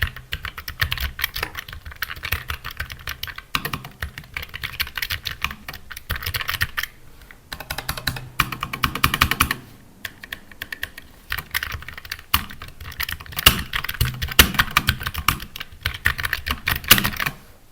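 Steady, continuous typing on a Keychron K3 Max low-profile keyboard, a close, busy stream of light key clicks with brief pauses, no voices.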